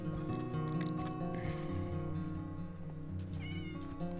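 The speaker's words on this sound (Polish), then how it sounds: "Miau." A cat meows in the video game Minecraft, a clear close tonal mewing that repeats over a few seconds against quiet game ambience, with no talk.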